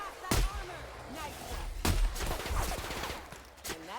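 Gunfire in the Outer Worlds game: several sharp, loud shots burst out at intervals, one near the start, one mid-clip and one near the end, with a busy layer of game sound and some speech between them.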